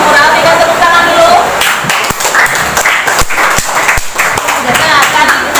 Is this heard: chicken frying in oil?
no